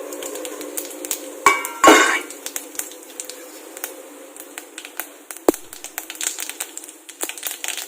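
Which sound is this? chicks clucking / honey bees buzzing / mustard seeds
mustard seeds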